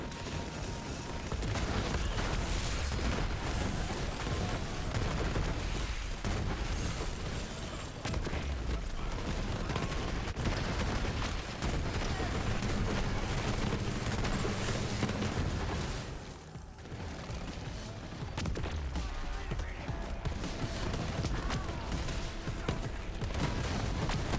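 Grenade explosions and gunfire from Borderlands 3, played with a rocket-heavy Moze build, form a loud, continuous barrage of booms and shots with a brief dip near the middle.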